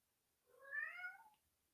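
A cat meows once, a single drawn-out, rising-then-falling call that is clear and fairly close, heard alone against a quiet background.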